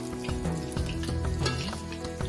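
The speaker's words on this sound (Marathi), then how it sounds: "सर्व कटलेट आपण गोल्डन ब्राऊन होईपर्यंत फ्राय करून घेऊया" Prawn cutlets fry in hot oil until golden brown, giving a steady, close sizzle that runs the whole way through, with a melodic tonal layer sounding underneath.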